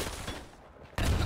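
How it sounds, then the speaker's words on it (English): Grenade blast in the World War II shooter game Days of War, a sharp booming burst that cuts off into near quiet before another loud rumbling burst of gunfire or explosion. "Nope. That was a grenade."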